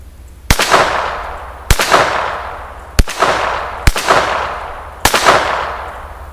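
A Ruger Mark III .22 LR handgun fires five sharp, loud shots at irregular intervals about a second apart, each crack followed by a ringing decay outdoors, with no talking.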